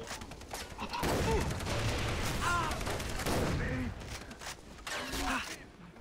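A gun firing in the video game Far Cry 3, with rapid bursts of shots running almost continuously and a louder volley near the end, while a person talks over the gunfire.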